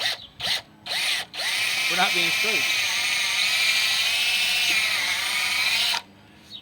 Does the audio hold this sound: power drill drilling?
yes